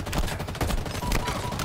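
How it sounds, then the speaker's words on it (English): Assault rifle fire in the video game Halo Infinite, dense overlapping bursts of gunshots blending into a steady fusillade, fairly quiet in the game mix, without speech. "assault rifle."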